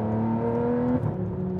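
An Aston Martin engine pulls hard under acceleration, a loud steady rising drone that drops at about one second with a gear change, then carries on near and continuous with no talking.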